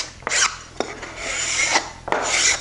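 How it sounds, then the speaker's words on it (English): A hand file rasps along wood edgebanding, trimming it with a slight bevel: four distinct, fairly close scraping strokes, each a short gritty rub, with no talking. "And then I'll carefully file this too. I'm always filing onto the wood."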